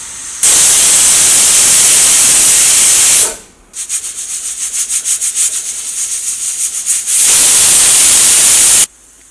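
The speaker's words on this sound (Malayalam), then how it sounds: "അപ്പോൾ കുക്കറിൻ്റെ ഉള്ളിൽ നിന്ന് 2 വിസിൽ വന്നിട്ടുണ്ട്" A pressure cooker cooking egg kurma gives a loud, sustained hiss of escaping steam. This breaks into a rapid pulsing whistle-like rattle, then returns to a steady rushing hiss before cutting off.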